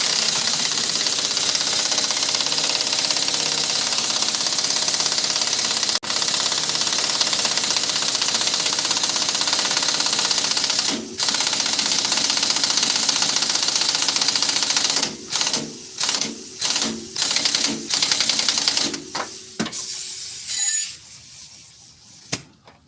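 A pneumatic air tool works on car parts, running in a continuous loud whir, then stuttering into short repeated bursts before fading out.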